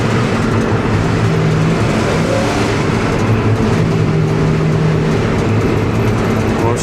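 A ZIL truck fitted with an American V8 engine revs hard and steadily up close, its smoky, rough-running motor droning loud throughout with no pauses.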